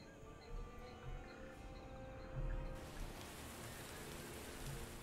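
Steady rainfall in the strategy game Empire: Total War, a continuous soft patter of drops on surfaces with occasional heavier splashes, moderately faint and unbroken throughout.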